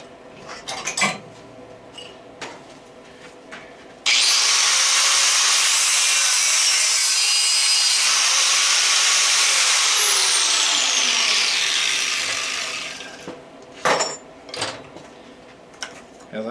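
A brass fitting is sawn through just past its nut, a steady, loud rasping cut that runs for about nine seconds before tapering off, with scattered knocks and handling sounds before and after.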